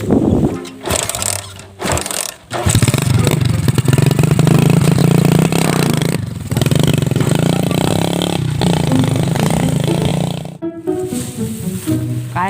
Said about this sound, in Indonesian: Kae koyo ne suara motor tah mau le.